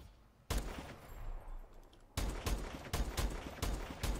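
SVO Fury rifle fire in Call of Duty: Advanced Warfare, heard as a single sharp shot followed after a pause by a series of evenly spaced, fairly slow booming shots.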